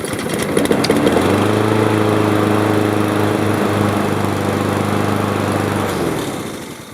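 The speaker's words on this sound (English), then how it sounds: "let's put the spark plug in, start the engine." A small engine treated with Seafoam starts and runs, a loud, close, steady buzzing drone with a harmonic hum that holds evenly for several seconds before easing off at the end.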